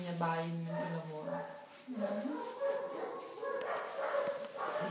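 Puppies yip and whimper in short high bursts, close and fairly loud, with people talking nearby in between.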